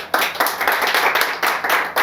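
A studio audience claps to welcome six visiting Hindi writers at a Hindi Divas poetry gathering, a close, busy patter of hands with several louder surges across two seconds and no voices.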